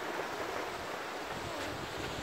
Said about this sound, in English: I was just going for an early morning jog along the beach at Cockle Creek